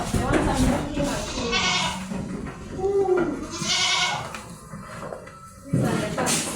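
Goats on a Kenyan dairy farm bleat in several short, nasal calls close by, mixed with shuffling movement and a continuous barnyard background.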